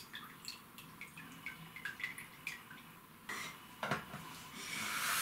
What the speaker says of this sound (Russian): Обязательно даем стечь воде.